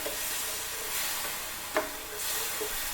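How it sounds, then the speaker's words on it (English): A pot of vegan three bean chili with broth being stirred: a steady sizzling hiss under a spoon scraping around the pot, with one sharper clink partway through. "So I'm gonna stir that around."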